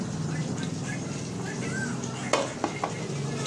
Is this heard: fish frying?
yes